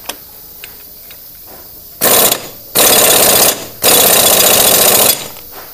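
An impact gun tightens the clutch nut on a Honda motorcycle in a workshop, firing three loud rattling bursts of hammering after a quiet pause with faint clicks, the last burst the longest, and no talking.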